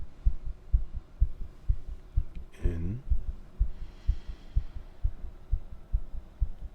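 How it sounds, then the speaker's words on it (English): A steady heartbeat pulses throughout, a regular low thumping at a relaxed pace, with a soft spoken voice briefly over it in a calm role-play setting. "Your heartbeat has already slowed significantly."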